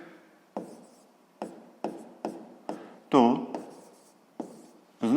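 A pen writes by hand on paper in a series of short, distinct scratchy strokes, spaced irregularly and heard up close in a quiet room, with one brief voiced sound in the middle.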